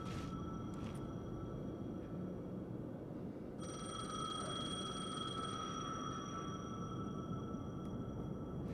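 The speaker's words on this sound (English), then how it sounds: "The payphone was ringing." A payphone rings in the horror game Alan Wake 2, a steady electronic ring that sounds continuously over a low ambient drone, growing stronger partway through with no talking.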